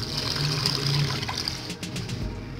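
Water poured into a cooking pot of spiced meat with salt, cumin, red chili and garam masala while making boti shami kabab, a steady trickling pour running throughout, close and moderately loud.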